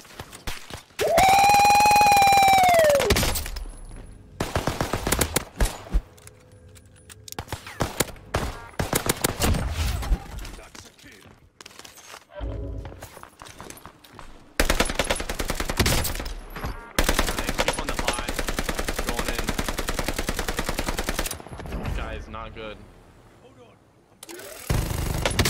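Starter pistol fire in the Call of Duty Warzone game, with loud bursts of gunfire mixed with game noise and engine-like drone, broken by pauses, while players talk over it.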